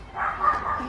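A dog gives one short, high, whining yip or bark, close by and moderately loud, lasting under a second.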